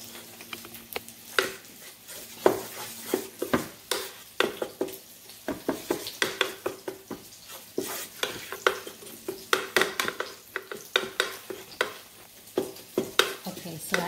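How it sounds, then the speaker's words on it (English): Flour being stirred into olive oil in a pan for a meatball gravy, soft bubbling sizzle under a series of quick scraping and tapping strokes from a utensil, fairly quiet and close. "the flour is being absorbed into the olive oil"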